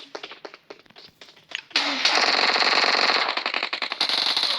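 Video game gunfire starts as a run of sharp separate shots, then turns into a loud, sustained, distorted burst of rapid fire with echo.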